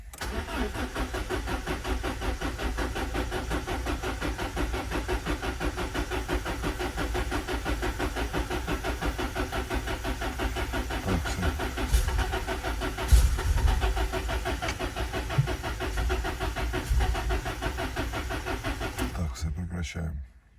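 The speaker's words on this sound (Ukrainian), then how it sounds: "Завожу я отак. І будемо крутити стартером." A 2000 Peugeot 306 that won't start after its ECU burned out cranks on the starter motor in a steady, loud, continuous churn for about nineteen seconds, then cuts off abruptly.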